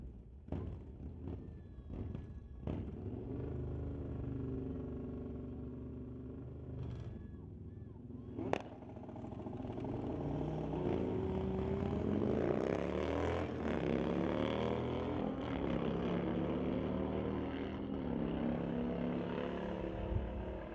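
A Harley Low Rider and a 2008 Suzuki motorcycle drag racing at a street-legal night event at Mission Raceway Park: engines rev, then a long rising roar passes down the track, mid-distance and loud, with an announcer talking over it.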